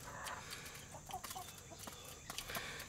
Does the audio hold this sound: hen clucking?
yes